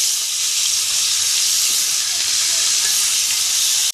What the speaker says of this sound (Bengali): ওই একই তেলে বেগুনগুলো ভেজে নেব।